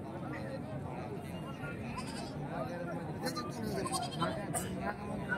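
Goats bleating at a busy rural goat and sheep market, several calls rising over a constant crowd hubbub with people talking close by.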